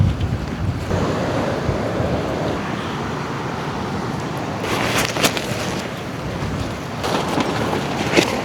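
Strong storm waves crash on the Pangasinan coast, a continuous loud surf wash with gusts of wind hitting the microphone and a few sharper surges of spray.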